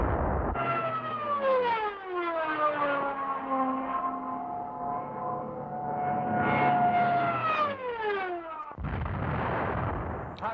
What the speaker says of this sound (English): Stukas are engaged against the enemy artillery and identified tank assembly areas.